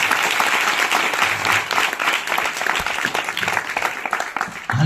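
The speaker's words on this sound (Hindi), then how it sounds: "ताली मारो प्रभु के लिए।" A church congregation at a prayer hall in Sambalpur, Odisha, claps loudly and continuously in praise, a full uneven roar of many hands with some rhythmic unevenness, close and sustained throughout.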